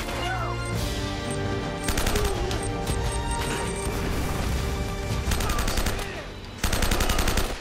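Gunfire from the video game Uncharted: dense, loud bursts of automatic shots and crashes over a layered game soundtrack, with brief quieter stretches between intense volleys and a voice faintly present.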